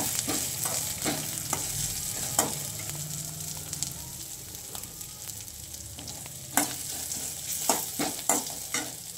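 Chopped coconut, crushed ginger and green chillies fry in oil tempered with five-spice seeds, a close steady sizzle broken by repeated sharp clicks and scrapes of a spatula stirring the pan.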